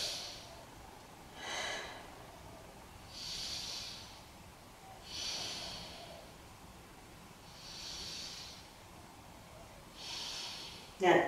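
Slow deep breaths during a beginner yoga pose, about three long airy inhales and exhales spaced evenly, close but soft with no words spoken.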